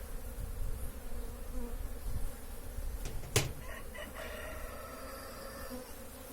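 Honeybees stir around an open hive on a lightly windy day, a steady broad buzz filling the scene throughout, with a sharp knock near the middle and a rooster crowing faintly in the distance.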